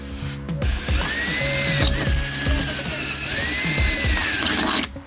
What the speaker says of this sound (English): now we're ready to drill